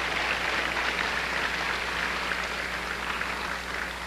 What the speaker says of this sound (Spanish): Dele un aplauso al Señor, que se merece la honra